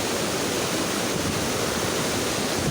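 Water rushing over the overflow of a lake, a loud, steady, broadband roar that fills the clip from start to finish with no pauses.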